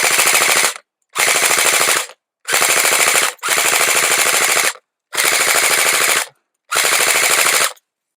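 A Game Face Insurgent AK-47 electric airsoft gun fires six loud, close, fully automatic bursts about a second long each, with short silent gaps between them.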